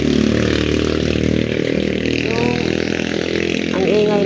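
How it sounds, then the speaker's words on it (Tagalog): A motorcycle engine drones loudly and continuously near a home vegetable garden, a steady low rumble that swells slightly at the end, with faint scraping and clatter underneath. "ang ingay naman ng motor."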